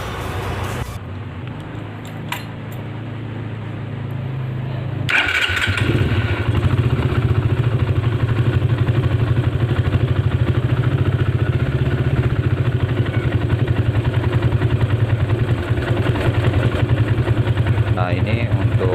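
A Suzuki Satria FU motorcycle fitted with a PE26 carburetor is started after a quiet, shuffling lead-in, then settles into a steady, close mid-pitched idle, with someone talking over it.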